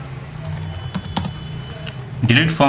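Typing on a computer keyboard: quick, uneven key clicks close by, scattered in short bursts. Someone speaks briefly near the end.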